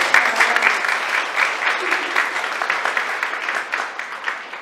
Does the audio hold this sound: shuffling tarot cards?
no